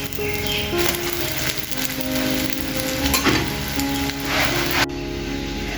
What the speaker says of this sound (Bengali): এদিকে একটা ডিম ভাজি করে নিচ্ছি।